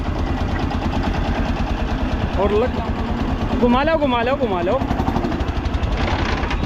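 A restored 1959 Lanz Bulldog D2416 tractor engine runs steadily at idle, a loud, close, continuous low thumping pulse throughout, with voices talking over it.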